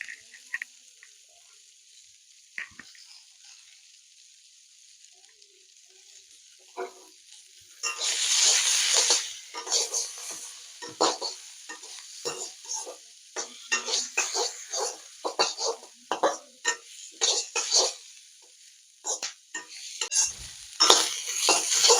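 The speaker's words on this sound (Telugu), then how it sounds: "తర్వాత కొద్దిగా బీన్స్ అలాగే క్యాబేజ్ వేసుకున్నాం ఈ ఫ్రైడ్ రైస్ చేసేటప్పుడు ఎప్పుడైనా కానీ స్టవ్ హైలోనే ఉండాలి" Green beans and cabbage are stir-fried over high heat in a pan for mushroom fried rice, with steady sizzling and repeated scraping and clanking of a spatula, close up and growing busier after a quieter start, with no voices.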